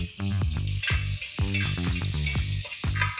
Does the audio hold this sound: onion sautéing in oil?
yes